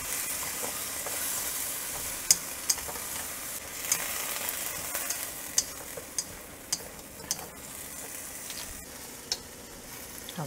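Beef and yellow onion sizzling in a pan, a steady hiss at close range broken by sharp ticks and pops spaced every second or so, no voices.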